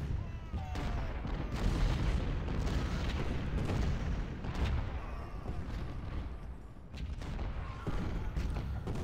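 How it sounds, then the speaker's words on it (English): An artillery barrage before Pickett's Charge at Cemetery Ridge in Ultimate General: Civil War, with repeated cannon booms and crackling shots merging into a steady, fairly distant rumble throughout. "we're in the midst of the artillery barrage that preceded Pickett's Charge"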